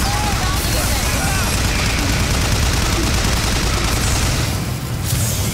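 Dense, continuous volleys of fireworks bursting in a BioShock Infinite game scene, loud and close with rapid crackling bangs that barely let up.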